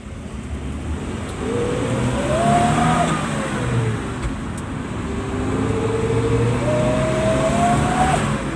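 A petrol car engine fitted with a large aftermarket exhaust drones steadily and rises in pitch as it accelerates twice, with a throaty exhaust tone over road noise.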